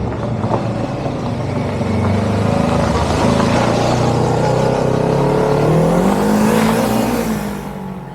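A Kawasaki Versys-X 300 motorcycle engine drones steadily while riding, pitch rising and falling with throttle, loud and close throughout.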